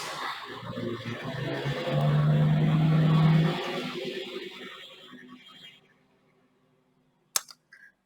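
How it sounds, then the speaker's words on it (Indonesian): A neighbour's truck with a loud muffler rumbles and revs nearby, a heavy broad roar that swells for a few seconds, then fades away into quiet, followed by a couple of sharp clicks near the end. "tetangga saya punya mobil truk,"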